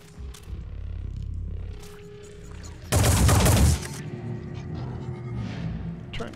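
Gunfire in the Phoenix Point video game, a loud dense burst of shots lasting about a second, set between quieter rumbling in-game ambience.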